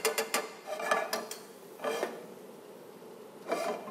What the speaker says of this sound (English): good's on the bottom of the pan. Yeah, you need to scrape it off.